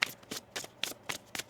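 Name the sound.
tarot cards being shuffled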